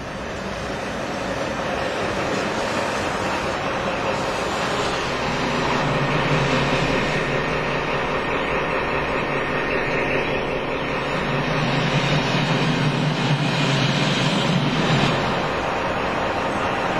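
Steady low diesel rumble of a train engine at a rail yard with hand-operated switches, sustained and fairly loud, swelling slightly midway with no voices.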